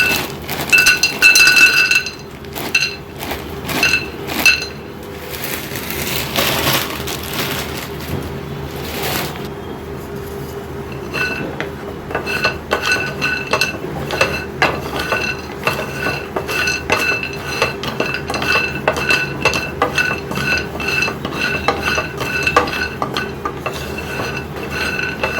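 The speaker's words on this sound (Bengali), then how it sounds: "শুকনো ফ্রাই প্যানে ভেজে নেব।" Lentil dumplings (bori) dry-frying in an oil-free frying pan are stirred continuously, giving a steady run of metallic scrapes, clinks and rattles, close and moderately loud, with no talking.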